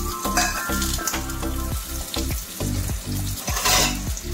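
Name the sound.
frying whole spices, cashews, raisins and peas in ghee and oil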